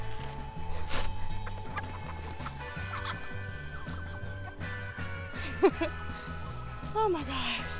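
Chickens cluck and squawk close by in a backyard flock, with a regular low rhythmic background sound and a few sharp, rising calls near the end; a person talks over them.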